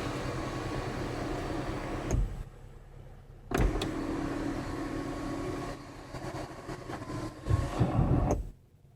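Electric sunroof motor on a 2012 Mercedes-Benz C250 4Matic, a steady whirring hum running several seconds with brief louder clicks and thumps as the large sunroof opens inside the quiet cabin.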